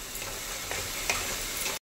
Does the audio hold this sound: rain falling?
no